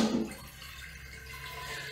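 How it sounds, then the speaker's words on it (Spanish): Tap water runs into a pot being filled for blanching in a home kitchen, a steady hissing wash that follows a brief louder splash at the start. "Voy a poner el agua."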